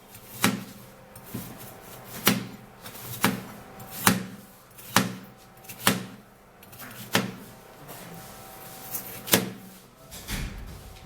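Food cut into pieces on a board, a dozen sharp knife chops at a slow, fairly even pace, close and distinct against a quiet kitchen background.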